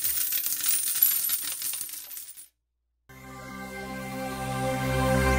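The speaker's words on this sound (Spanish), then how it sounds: "Ellos le asignan 30 monedas de plata" Thirty silver coins spill and jingle in a bright, clattering burst, then fall silent briefly before a second wave of ringing metallic coin sounds settles and rings out.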